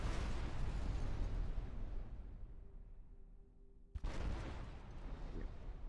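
A trap explosion goes off in DawnCraft, a Minecraft modpack. A loud rumbling blast fades to a quieter stretch, then a sharp new burst follows near the end.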